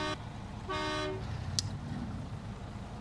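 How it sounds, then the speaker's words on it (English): Truck horn in the SnowRunner off-road driving game, two short toots followed by a brief sharp click, over a steady engine rumble. "you can honk your horn to get rid of these"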